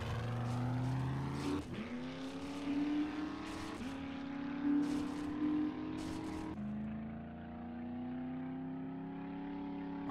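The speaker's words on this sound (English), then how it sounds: "All right, back in the truck." A truck engine in the video game 7 Days to Die drives steadily, its hum rising and falling through gear changes and a few brief clattering bumps, close and continuous with no talking.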